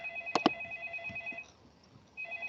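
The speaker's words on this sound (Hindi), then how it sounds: "Let me take a phone call." A phone rings for an incoming call: a steady high electronic ringtone tone runs behind two sharp clicks, drops out briefly, then resumes, fairly quiet with no talking.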